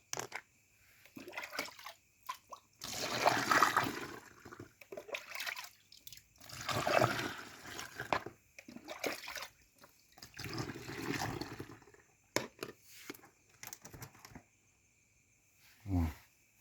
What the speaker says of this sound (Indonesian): Kita tambah lagi airnya sampai ada garis yang